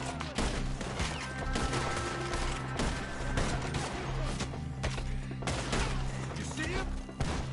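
Continuous gunfire from a PS4 video game rattles in dense volleys and overlapping shots throughout, loud and sustained with heavy background battle noise.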